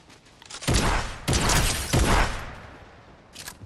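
Bursts of rapid gunfire in Fortnite, three dense clusters of shots in quick succession, loud and close, then a short faint burst near the end.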